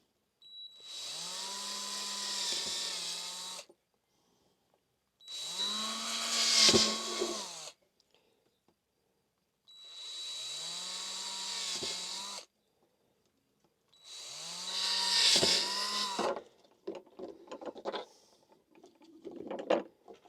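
A drill bores a series of holes while a fly curtain is made for a camper van, heard as four separate whirring bursts of about three seconds each, with short pauses between them and a few faint clatters at the end.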